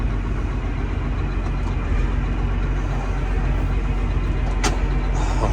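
An articulated farm tractor engine runs at a steady, close, low rumble without letting up, with no voices over it.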